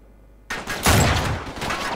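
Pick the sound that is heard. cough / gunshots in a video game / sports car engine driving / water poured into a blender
gunshots in a video game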